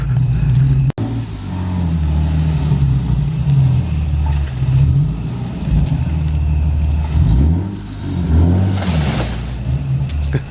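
A lowered widebody Nissan 370Z idles and creeps in reverse close by, a steady low engine rumble with gentle rises in revs and one sharp click near the start, with no talking.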